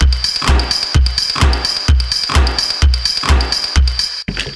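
A punchy electronic drum loop with booming kicks, snappy snares and bright hi-hats repeating in a steady groove, with a cymbal-like splash near the end.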